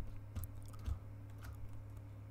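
A few soft, sparse keystrokes land on a computer keyboard over a low steady hum, faint and close, with no speech.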